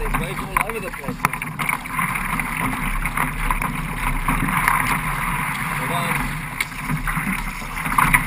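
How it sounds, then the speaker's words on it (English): Water splashes and sloshes around a small paddled boat out on the water, with steady wind buffeting the microphone and people talking throughout. "Oh, there's waves all over the place."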